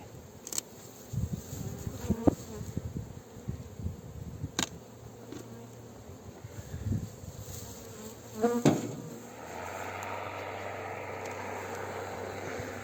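Honey bees licking clean harvested honey supers: a steady, close swarm buzz with occasional knocks and taps, a brief bump, then a smoother, fuller hum settling in.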